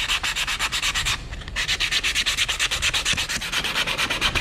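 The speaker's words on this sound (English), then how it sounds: "sanding off the little filler" Rapid rhythmic scratching of sandpaper rubbed by hand back and forth over a wooden picture frame, sanding off wood filler, close up, with a brief pause partway through.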